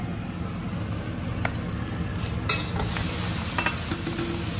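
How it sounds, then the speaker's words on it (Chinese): Roast duck stir-fried in a wok gives a steady sizzle and fry hiss, with sharp scraping clacks of the spatula against the pan, close and loud with no talk. "把它放到锅里再炒一下"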